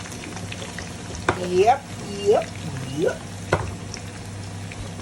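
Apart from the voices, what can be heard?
vegetables sizzling while frying for rendang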